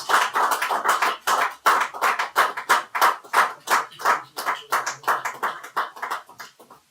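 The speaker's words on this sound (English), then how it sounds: "Can we give him another round of applause?" An audience claps for a livestream guest, a dense burst of hand claps lasting several seconds, loud and close before tapering off, with no voices over it.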